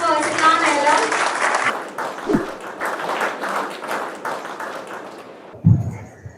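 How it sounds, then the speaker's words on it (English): Audience applause at an alumni talk event rises broadly then thins and fades over several seconds, with scattered claps and faint voices mixed in. "So can we have a loud round of applause for Arsalaan Alam?"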